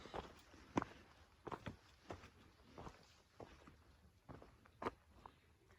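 Footsteps walk up to a trail shelter, a series of distinct crunching steps at an uneven pace, fairly close, with no talk.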